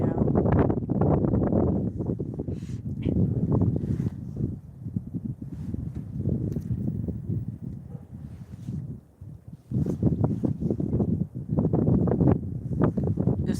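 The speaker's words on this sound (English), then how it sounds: "It is very windy out." Strong wind blowing outdoors beside a lake at sunset with clouds and mountains nearby, rumbling steadily against the microphone in loud gusts that ease briefly near the middle before picking up again.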